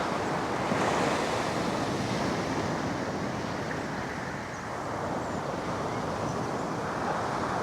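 Sea swell rolling onto a beach by a sandbank while sea angling, a continuous loud wash of breaking surf with wind buffeting the microphone, steady throughout with no voices.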